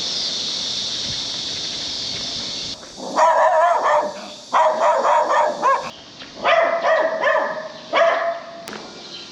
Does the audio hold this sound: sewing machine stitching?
no